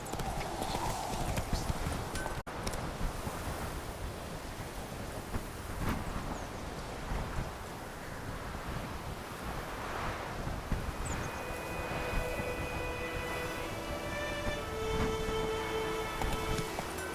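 Geralt's horse Roach gallops in The Witcher 3, steady clip-clop hoofbeats running throughout over wind noise and rustling, with a brief whinny and occasional background game sounds.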